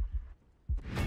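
Heartbeat in Call of Duty Black Ops 4 Blackout, a couple of soft low thumps fading out before a louder rumble of noise rises at the end.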